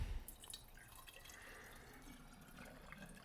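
Water poured into a 3D-printed spiral funnel, draining as a faint, steady trickle with soft splashes and a brief louder splash at the start.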